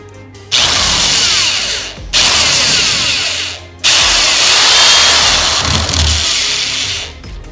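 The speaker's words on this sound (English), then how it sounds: "Putting the screws in the top of the bracket." Power drill driving short screws into the top of a cabinet bracket on a DIY wheeled kitchen island, three loud whirring bursts with brief pauses between them, close and without talk.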